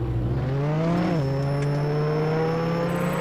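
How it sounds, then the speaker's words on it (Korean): A car drives along a road in the Roblox game Jailbreak, its engine a steady humming whine that dips briefly in pitch then settles, close and continuous, with no talking. "자 기찻길로 자동차가 달리고 있고요"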